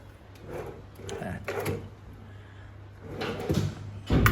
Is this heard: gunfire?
no